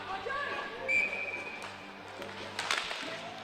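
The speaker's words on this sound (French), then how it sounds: "Après 2 minutes, ça prend un sifflet pour les filles en bas." A referee's short whistle blast cuts through crowd noise and talk at a women's game, followed by bouncing and court sounds in a busy arena.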